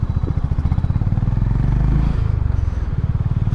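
A Honda Bigwing motorcycle rides along a road at night, its engine giving a loud, close, steady pulsing thrum that rises briefly as the throttle opens and then settles back to a rhythmic idle-like beat.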